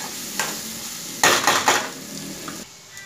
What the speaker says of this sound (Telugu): ఈ మూడు వేసాక కూడా ఒక 2 నిమిషాలు బాగా ఫ్రై అవ్వాలి